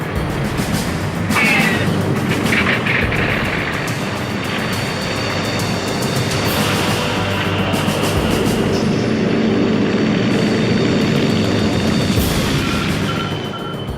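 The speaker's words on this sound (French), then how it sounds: "les radars révèlent des avions ennemis au-dessus des côtes françaises" Enemy aircraft flying over during the Blitz on London in 1940 produce a loud, steady, broadband engine roar that persists throughout without pause, with faint clatter on top.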